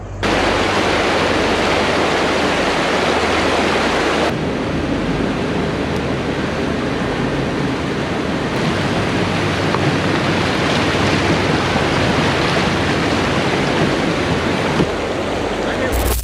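River rapids rush and churn around a kayak, a loud, steady broadband roar of turbulent water that fills the whole stretch, close up with no break.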